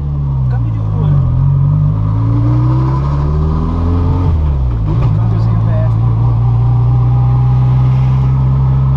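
A turbocharged VW Gol engine idles loudly and close up, a steady low rumble with a brief dip and swell in pitch around the middle, while people talk over it.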